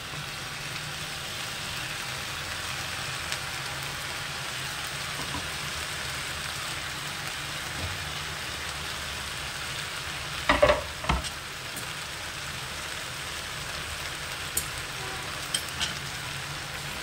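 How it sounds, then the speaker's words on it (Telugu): Curry frying in a pan gives off a steady, soft sizzle and crackle while it is stirred and mixed, with a couple of louder scrapes of the spoon against the pan partway through. "ఇప్పుడు మొత్తము ఒకసారి కలుపుకుందాము."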